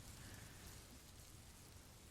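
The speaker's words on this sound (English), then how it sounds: "we're going to turn the rain down" Steady, even rain pours down on a surface as a continuous hiss with soft patter, played as a background effect at a fairly low level and uninterrupted throughout.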